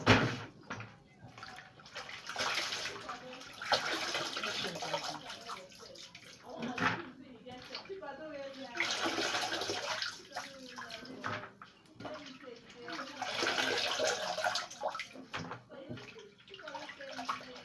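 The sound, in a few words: washing something in water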